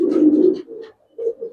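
A pigeon coos close by at a farm keeping Giribaz and racer pigeons, one throaty rolling call followed after a brief pause by a shorter second coo.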